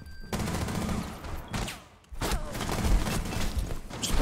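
Gunfire in Rainbow Six Siege crackles in rapid bursts with sharp close shots, a brief lull, then more sustained firing, loud and dense throughout.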